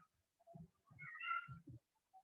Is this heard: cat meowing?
yes